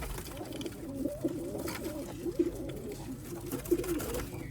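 Sialkoti pigeons coo softly and repeatedly in a low, throaty rumble, several birds overlapping close by with a faint background hiss.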